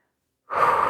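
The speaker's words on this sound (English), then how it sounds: "And breathe." One loud, close breath during a yoga workout for shoulders and arms, a sudden airy exhale after a moment of silence, alone with no other sounds.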